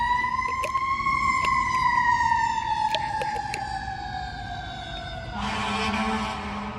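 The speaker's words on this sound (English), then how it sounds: "you're just blaring sirens for what?" A fire engine siren wails loud and close in a steady, slowly falling tone, ending in a burst of rough, broadband noise.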